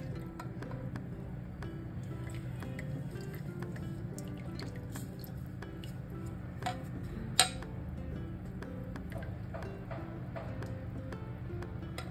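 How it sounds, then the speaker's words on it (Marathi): Homemade amla hair oil drips steadily while being strained, a soft regular ticking of drops over a low background hum, with one brief sharper clink partway through. "आता मी गाळून घेते मंडळी. तुम्ही कपड्याने गाळलं तरी चालेल."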